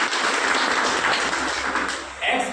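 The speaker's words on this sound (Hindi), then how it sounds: "जोरदार तालियां," Loud, dense applause fills a hall at a company business seminar in Bathinda, a steady wash of many hands clapping that continues without pause and swells slightly near the end.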